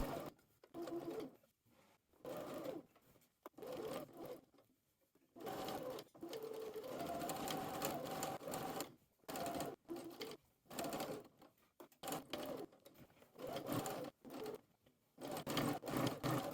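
A sewing machine stitches along a dress hem in repeated short runs, starting and stopping many times. The whirring is soft and close, with brief silent gaps between the bursts.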